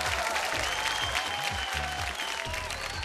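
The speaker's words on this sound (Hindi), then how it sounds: "तालियां बजा दीजिए इनके लिए भाई" Dense, sustained applause from a television studio audience fills the whole stretch, loud and even, with a low musical tone pulsing faintly underneath.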